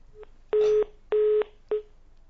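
A telephone line tone sounds as a caller disconnects during a news broadcast call: three steady electronic beeps in an even pulse, the last one shorter, with faint hiss between them.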